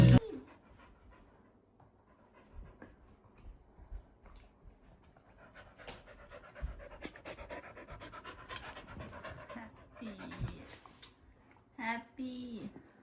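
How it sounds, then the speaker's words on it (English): Happy, a dog playing and running around in a garden, pants in quick rhythmic bursts close by, with faint whimpers and a stretch of speech partway through. "Happy is a happy dog. He's running around, playing all the time."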